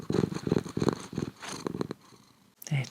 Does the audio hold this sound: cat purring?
yes